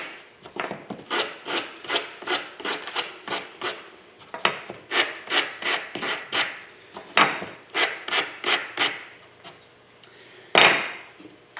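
Hand sanding of a small wooden picture holder piece, a steady run of close rasping strokes in a regular back-and-forth rhythm with a brief pause partway and one louder scrape near the end, with no talking.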